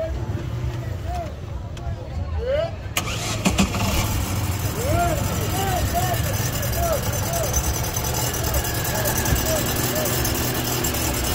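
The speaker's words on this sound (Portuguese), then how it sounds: "O amigo vai dar partida aqui no motor pra gente escutar." A used car at an outdoor car fair in Caruaru is started and left idling, a steady engine hum under lively crowd chatter and voices nearby.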